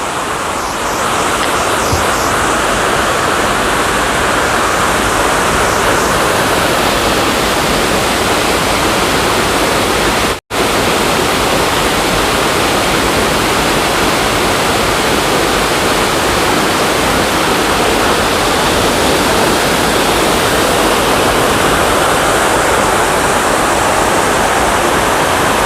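A loud, steady roar of a waterfall on the Appalachian Trail fills the whole stretch without pause, close and constant, broken only by a brief dropout partway through.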